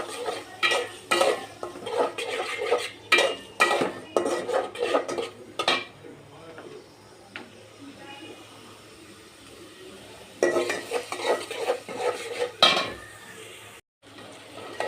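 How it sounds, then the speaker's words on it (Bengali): Chopped onions fry in a pan as a spatula scrapes and clatters against the metal in bursts of stirring, with a soft sizzle between strokes and a quieter pause in the middle. "এখন হালকা একটু নেড়ে চেড়ে নিব।"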